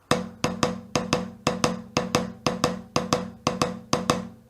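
Drumsticks play a looping triplet figure with one hand doing double strokes, giving a steady run of sharp, evenly spaced hits, close and dry, with no voices.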